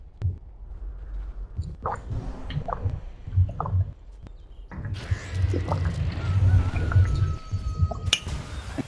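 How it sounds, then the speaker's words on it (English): A person gulping water in repeated swallows close to the mic, with wet squishing and sloshing sounds over low room noise and no talking. "That is the sound of me chugging water."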